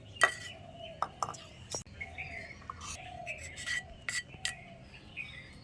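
Cut grapes being scooped into a bowl, with light scraping and small clinks of a spoon against the dish, intermittent and close, over a quiet room.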